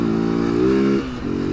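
Honda CG 150 Fan motorcycle engine revving up close, a loud buzzing drone rising in pitch, then dropping off and catching again in a short burst.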